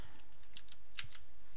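Rapid, close keystrokes on a computer keyboard while playing the roguelike Dungeon Crawl Stone Soup, a few quick clicky taps in a short burst over low background hiss.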